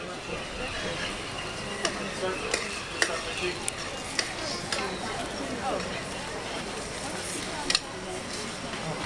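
Food lightly stirred around a hot pan during a restaurant brasserie cooking demo, a steady sizzle with soft scraping and a few sharp clicks of utensil against the pan.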